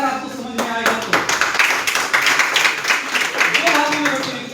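An audience listening to a speech claps loudly and densely, in a continuous burst of hand claps that lasts several seconds, with voices audible underneath.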